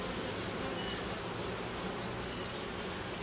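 Honey bees buzzing around a hive during an orientation flight, a dense continuous drone from many insects, close and even throughout.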